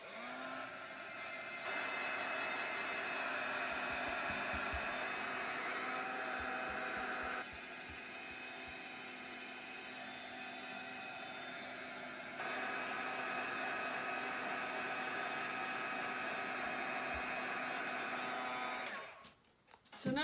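A hair dryer blowing on a mixed media vintage craft plaque, a continuous loud whooshing drone that shifts in pitch and strength a few times as the setting or angle changes, then cuts off at the end.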